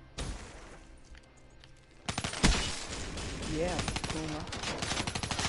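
Dingo light machine gun fire rattles through a multiplayer video game firefight, with long rapid-fire bursts and other gunshots building in intensity. A player speaks briefly over the shooting.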